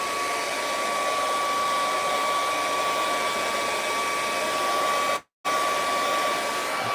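A hair dryer blows steadily and loudly at close range to dry dots of paint on a city skyline painting, a continuous whooshing roar that cuts out briefly near the end and then resumes.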